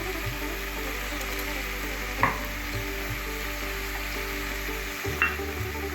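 Country chicken sizzles steadily in a hot pan with turmeric and Kashmiri chilli powder, a soft continuous frying hiss broken by a couple of stirring scrapes over a low background hum.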